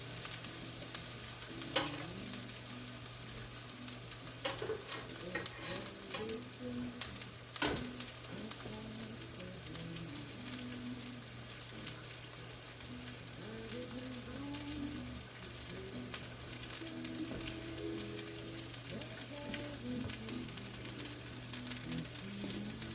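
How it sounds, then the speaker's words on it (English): Italian sausage sears in hot oil, giving a steady, close sizzling crackle with occasional pops and a few utensil clicks, running continuously for over twenty seconds with no one talking. "So we will go ahead and put the sausage in to sear."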